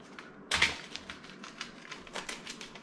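A knife sawing through the crisp crust of homemade bread, a sharp crackle at the start followed by a quick series of dry crunching, ticking strokes, close and fairly quiet with no talking.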